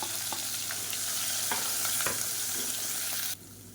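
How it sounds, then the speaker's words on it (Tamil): Mustard seeds, curry leaves, chopped green chillies and ginger-garlic paste fry in hot oil with a loud, steady close sizzle, scattered seed pops and stirring scrapes, the sizzle dropping away sharply near the end. "கடுகு பொரிய ஆரம்பிக்குது"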